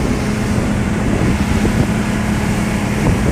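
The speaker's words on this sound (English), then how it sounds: "the background sound of a massive outboard motor" A large, powerful outboard motor on a boat drones steadily and close throughout, a dense low-frequency roar with wind rushing over the microphone and no pauses or speech.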